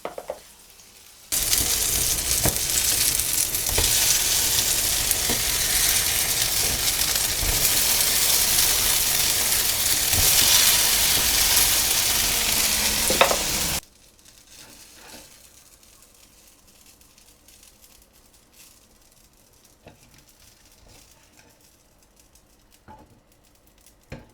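Fluffy summer pancakes (oladyi) frying in a pan give a loud, steady hiss and crackle of sizzling batter for about twelve seconds, then a much quieter low crackle continues with occasional small clicks.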